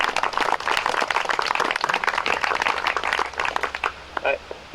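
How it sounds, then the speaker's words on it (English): A crowd at a bench dedication applauds, with many hands clapping in a dense patter that gradually thins out, mixed with some voices. "if you could give her a round of applause for that"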